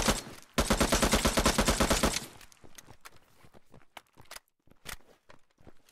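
Video game gunfire opens with a rapid, loud automatic burst lasting about a second and a half, then gives way to scattered single shots and sharp clicks.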